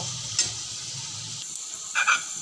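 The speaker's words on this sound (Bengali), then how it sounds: "ছোলাটাকে আলুর সাথে এক দু মিনিট মতো একটু নেড়ে ছেড়ে নেব" Soaked chickpeas being stirred with fried potatoes in a pan, a soft sizzle under a couple of short scraping stirs and clatters, close and quiet.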